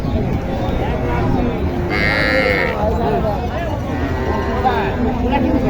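Cattle at a busy cattle market selling Sahiwal cows and calves low several times under a crowd's chatter and voices.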